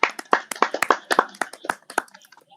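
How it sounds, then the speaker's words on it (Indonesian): A small group of people clapping at the close of an online session on sex education for teenagers, about a dozen uneven, fairly close claps over two and a half seconds, thinning out toward the end with no talk. "Beri aplaus buat kita semua"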